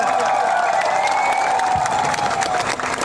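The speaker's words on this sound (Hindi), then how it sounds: "पू बीके रंखौल के लिए ताली मारिए" A crowd at a Tipra Motha political mass gathering applauds and claps steadily and loudly, with a sustained tone ringing through the dense clapping for about three seconds.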